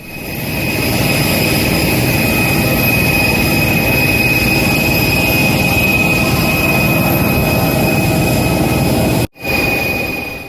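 Loud, steady engine roar with a high whine of an IndiGo passenger jet close by on the ground at Guwahati airport, continuing unbroken until a brief cut near the end.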